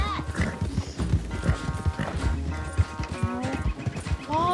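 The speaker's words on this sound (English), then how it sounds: "Why did you jump there, you stupid horse?" Hooves clip-clop in a quick galloping rhythm in the video game Red Dead Redemption 2, with a horse whinnying and a voice talking over the hoofbeats.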